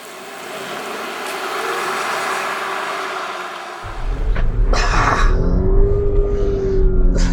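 A 2024 VW Touareg R plug-in hybrid SUV is driven, starting with a steady hum that gives way to a louder, fuller engine drone with a rising tone, as if it is pulling away and accelerating.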